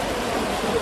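Fast-flowing canal water near Bukkar Pir rushes in a dense, steady wash, loud and close, in a brief burst with no voices.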